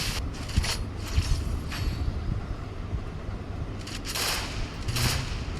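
Bursts of submachine gun fire in a video game shooter match ring out in short volleys at the start and again near the end, set against a constant rumbling background bed.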